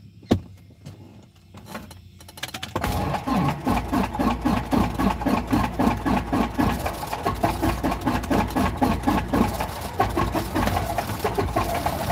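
Light aircraft propeller engine cranked by its starter motor: a few clicks and quiet moments, then a loud, steady rhythmic whirring churn of the starter turning the engine over without catching.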